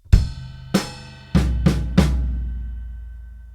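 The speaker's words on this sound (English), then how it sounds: "We're going to play the snare drum and floor tom in unison." Snare drum and floor tom struck together in a half-bar break, five sharp combined hits in a quick uneven rhythm, close and alone, the last stroke ringing out as it decays.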